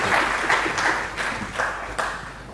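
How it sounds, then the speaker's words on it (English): A modest academic conference audience applauds the keynote speaker in a room, with moderately loud clapping that comes in slightly uneven surges. "let's invite him with a wide applause"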